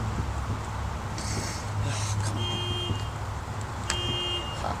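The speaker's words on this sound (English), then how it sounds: "sorry, my mom's car alarm went off." A car alarm going off outdoors near someone working on a small engine, giving repeated electronic beeps and tones at moderate distance over a steady background hum, with no talking.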